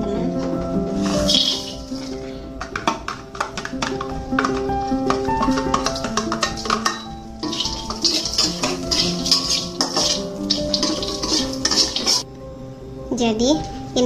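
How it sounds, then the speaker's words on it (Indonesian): Candlenuts, coriander seeds and cumin are dry-roasted in a pan, giving constant clinks and scrapes of metal on metal as the spices are stirred, loud and close without speech. "sangrai kemiri, ketumbar,"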